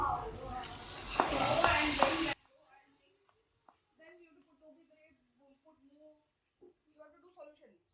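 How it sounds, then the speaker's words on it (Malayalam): Kashmiri chilli powder tempering poured into a sardine and green mango coconut curry gives a loud burst of sizzling and frying for about two seconds, then cuts off abruptly, leaving quiet scattered faint sounds. "ഇനി ഇത് നമ്മുടെ മീൻകറിയിലേക്ക് ചേർത്ത് കൊടുക്കാം"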